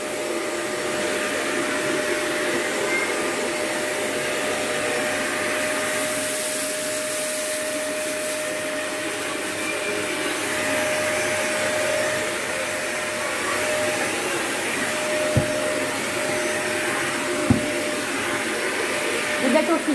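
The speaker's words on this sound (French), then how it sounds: "Bien, face aspirateur." A Rowenta steam vacuum-mop cleaner drones loudly and evenly throughout, a constant whirring hiss with a couple of brief knocks toward the end.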